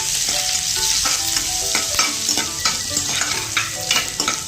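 Green chillies, grated ginger and curry leaves fry in an oil-filled pan. The sizzling is loud and continuous, close up, with a spoon scraping and stirring through it.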